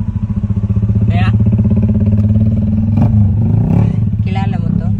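A loaded motorcycle runs past on a rural road, its engine droning steadily and loudly up close with a rhythmic rumble, while voices chatter over it.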